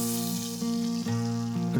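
Close, steady sizzle of mule deer heart and liver frying medium rare in a pan over an open fire on a cold night, with faint shifts in the hiss and no talking.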